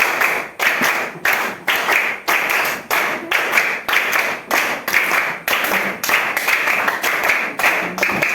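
Children clap in a classroom clapping game, a run of sharp hand claps in rapid, evenly spaced bursts close by, with no talking over them.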